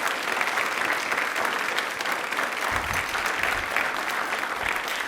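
A steady wash of clapping from a studio audience at a general knowledge quiz show, applauding for Indian farmers, continuing evenly throughout with no speech over it.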